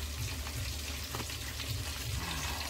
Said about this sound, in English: Put the butter now.